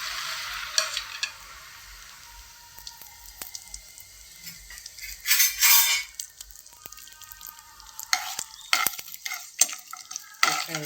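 Whole spices for vegetable pulao fry in a hot pan with a soft, steady sizzle, broken by a spoon stirring and scraping and a few sharper clinks against the pan, close by and without talk.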